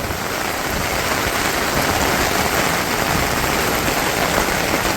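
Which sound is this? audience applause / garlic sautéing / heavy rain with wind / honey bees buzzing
heavy rain with wind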